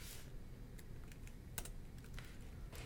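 A class name typed on a computer keyboard, a short run of faint, light key clicks over a low steady hum, distant and quiet, with no talking.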